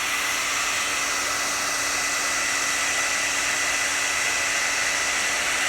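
A hot-air heat tool blows steadily while melting crayons for a painting, a constant close, hissing whoosh like a hair dryer with a faint steady whine and no pauses.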